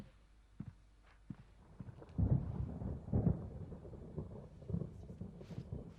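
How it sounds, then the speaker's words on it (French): Thunder from a storm in the video game Alan Wake rolls in low, deep rumbles with a couple of heavier cracks, over faint steps and a light rain-like hiss. "L'orage risque d'énerver tu sais qui."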